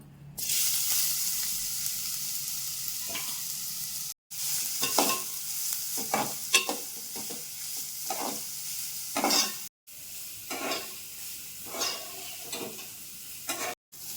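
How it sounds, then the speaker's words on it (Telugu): Grated beetroot fries in a little oil in a pan, a continuous close sizzle broken by repeated spatula stirs and scrapes, with a couple of brief abrupt cuts; no voices. "ఇంకొక హాఫ్ స్పూన్ నూనె వేసుకున్నామండి బీట్రూట్ వేయించుకోవడానికి బీట్రూట్ తురం వేసుకుందాం"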